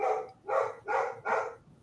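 A dog barks four times in a quick, even rhythm, moderately close and fairly soft, indoors with no other sound.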